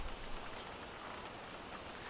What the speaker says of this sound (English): this would be flash flood rains we're having here